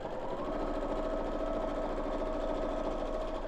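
A domestic sewing machine runs steadily while stitching a fabric peg bag, giving a continuous, even mechanical whir and rapid needle chatter at close range with no pauses.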